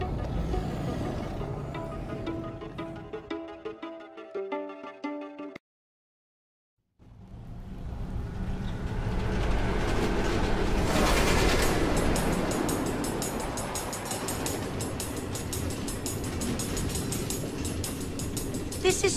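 Minecart train rolling along automated tracks in the Nether in Minecraft Story Mode, a loud sustained rumble and clatter that cuts out briefly and then returns, building steadily to a dense roar.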